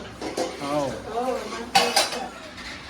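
Someone washes dishes and utensils, with metal pots, plates and cutlery clinking and scraping in short irregular bursts. A voice talks over part of it, and one sharp clank stands out near the middle.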